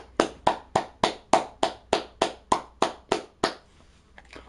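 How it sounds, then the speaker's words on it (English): Eleven sharp hand claps in a steady, even rhythm, close and crisp, then the clapping stops and it falls quiet. "Clap it up."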